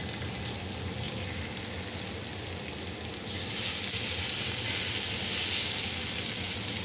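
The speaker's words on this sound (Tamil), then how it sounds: "எண்ணெய் நல்லா சூடாகிடுச்சு. இப்போ நம்ம மீனை இதில் போட்டுருவோம்." Tuna fish pieces dropped into hot oil fry with a loud, dense, continuous sizzle up close that swells and grows stronger midway.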